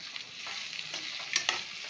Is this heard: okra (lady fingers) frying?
yes